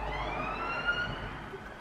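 A wailing siren sweeps steadily at a moderate distance, with a low traffic rumble underneath and no voices.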